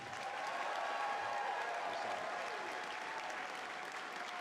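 Audience applause for climber Conrad Anker at the Michigan Ice Fest, a steady, continuous wash of clapping from a gathered crowd with a faint sustained tone running underneath, fairly soft and even throughout.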